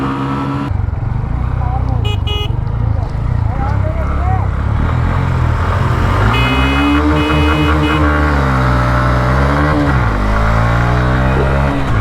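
A Honda CB Hornet 125 and a Hero Xtreme 125R accelerate hard side by side in a drag race, engines rising and falling through gear changes as they pull away, loud and close with excited shouting over them.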